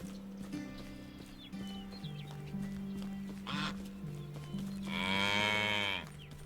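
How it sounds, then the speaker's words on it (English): Cows moo in the medieval farming game Medieval Dynasty, several calls over a steady low game background hum, ending in one longer, louder moo near the end. "There's some cows."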